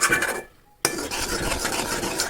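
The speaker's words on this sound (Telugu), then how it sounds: "ఇలా మిక్స్ చేస్తూ ఉండాలి మధ్యలో మధ్యలో చిక్కబడేదాకా" A spoon stirs milk and sugar in a pan for kulfi, making continuous metallic scraping and swishing against the pan. The stirring breaks off briefly, then starts again close and clear.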